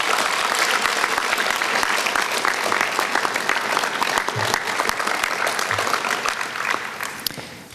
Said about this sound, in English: I'd ask our National Honor Society inductees to please give a round of applause to your family